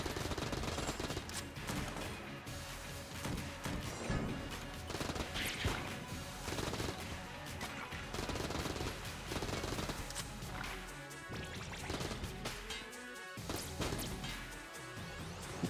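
Rapid gunfire from a weapon in Enter the Gungeon, dense continuous bursts of shots with crashing impacts throughout, loud and sustained with brief gaps.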